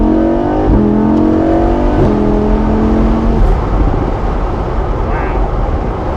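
A Lamborghini Huracan Spyder accelerates flat out, its engine note climbing through rising revs with quick gear changes, then fading into a broad rushing drone as speed builds, heard close from inside the car.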